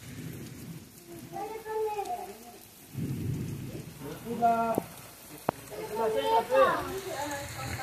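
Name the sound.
heavy rain with thunder on a rural road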